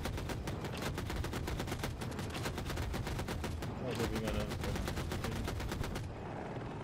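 Rapid automatic gunfire from a KA-520 Super Hokum helicopter in a video game, on the Hourglass map, with loud sustained bursts of evenly spaced shots running for several seconds before cutting off.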